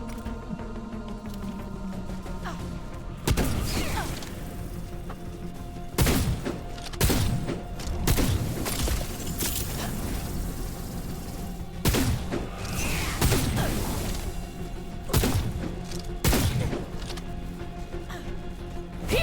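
A shotgun firing in the video game Wayfinder, a series of heavy, booming single blasts spaced a few seconds apart over a steady humming game background.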